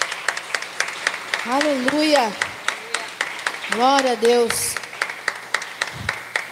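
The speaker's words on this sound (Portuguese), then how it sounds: "Aplauda o Senhor" A church congregation at a home worship service claps in a steady rhythm, sharp regular hand claps running throughout beneath a voice calling out praise.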